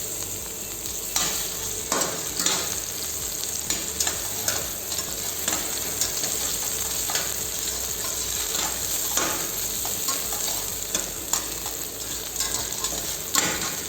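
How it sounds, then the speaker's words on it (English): Sliced onion frying in a hot pan for pad thai gives a loud, continuous sizzle, punctuated by regular spatula scrapes and tosses. "Make sure your pan is hot before we add the ingredients. To begin with, we'll put half onion sliced,"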